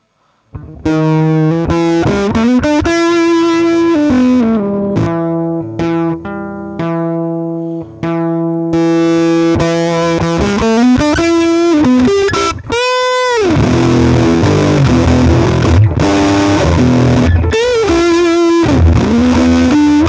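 A fuzzy, heavily distorted electric guitar tone from a fuzz pedal into a simulated Fender Champion 600 amp plays sustained notes and chords, with a brief pitch-bending warble partway through.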